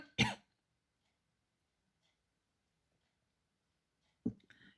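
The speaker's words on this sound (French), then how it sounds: "Je suis obligée de boire entre deux, sinon je fais que tousser" A woman gives a short harsh cough, then a long quiet pause, then clears her throat close up, in an otherwise silent room.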